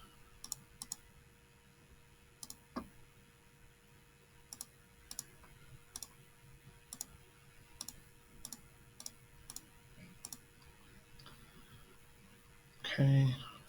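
Calculator buttons are pressed one at a time to enter matrix values, a steady series of small sharp clicks close by in a quiet room, ending with a brief muffled thump.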